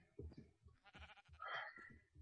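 A quiet, wavering Minecraft sheep bleat sounds once, low in level, like a game sound effect among faint background noise.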